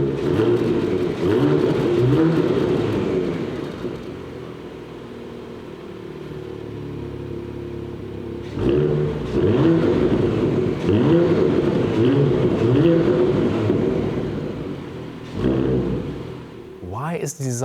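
A Porsche Macan with a quad-pipe sports exhaust is revved at close range, with repeated rising and falling engine surges and a brief lull in the middle before it swells again.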